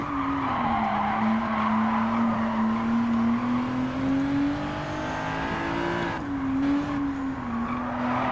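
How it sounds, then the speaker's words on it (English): In Gran Turismo 7, a race car brakes hard into a turn, and its engine note drops steadily under a sustained tire squeal. The sound is loud and continuous, with no speech. "slamming the brakes and coming in on to turn 1"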